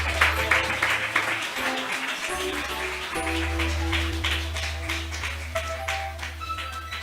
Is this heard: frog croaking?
no